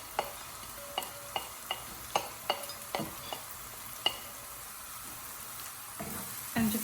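Onions and chilies fry quietly in a pan under a low, steady sizzle. Regular sharp ticks and taps from stirring come about every half second, and there is no talking.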